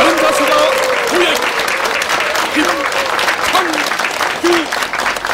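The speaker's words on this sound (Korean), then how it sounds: "큰 박수로 맞아주십시오." A crowd applauds loudly and continuously, with a voice talking over the clapping.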